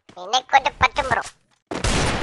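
Gunfire in a mobile shooter game, a short burst of dense rapid shots after a moment of silence, loud and close, following a brief stretch of excited talking.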